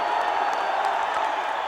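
A wrestling arena crowd stands and applauds as the Mad Dog arrives, the dense clapping and cheering a steady, loud roar throughout.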